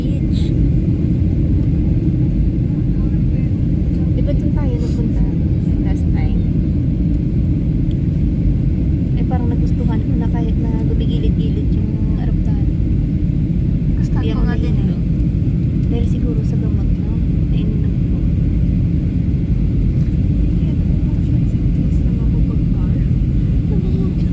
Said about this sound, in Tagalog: jet plane